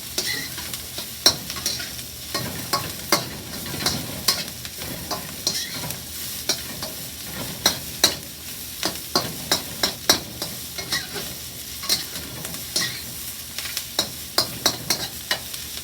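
Shredded cabbage is tossed and stir-fried for vegetable chow mein in a hot pan, a steady sizzle punctuated by frequent rhythmic clacks and scrapes of the utensil against the pan.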